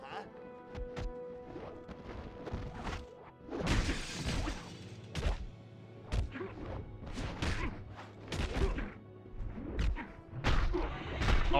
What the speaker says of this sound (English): Oh, I broke some glass.